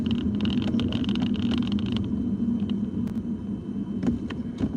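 Inside a car on a road trip, steady road and engine rumble drones continuously, with light clicks and rattles on top and no talking.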